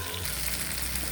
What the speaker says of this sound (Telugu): కరివేపాకు వేస్తాను.